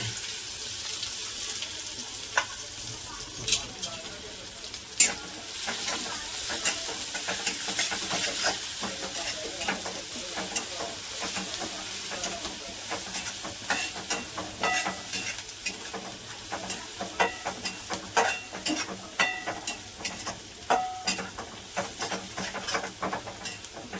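Cumin and coarsely ground masala being sautéed in a pan for matar kachori, a low steady sizzle broken by repeated spatula scrapes and clicks that grow busier toward the end, no talking.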